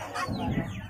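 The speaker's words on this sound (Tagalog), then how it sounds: "nakikita nyo itong mga manok na yan" Chickens clucking close by in a short burst of busy, overlapping clucks at a backyard holiday gathering.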